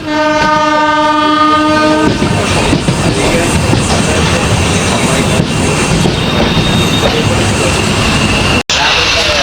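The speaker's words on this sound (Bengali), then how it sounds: "আমরা যাব হচ্ছে এই ট্রেনে করে দর্শক বন্ধু কৃষ্ণনগর কৃষ্ণনগর পর্যন্ত যাত্রাপথ আপনাদেরকে আমি দেখাবো" A Sairang to Kolkata Express passenger train sounds a long horn blast at the start, then runs on with a loud continuous rumble and wheel clatter throughout, heard close from on board.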